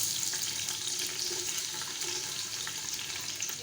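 Chopped onions frying in hot oil in a pan, with a steady, dense hiss and crackle that stays even and fairly loud throughout, no talk.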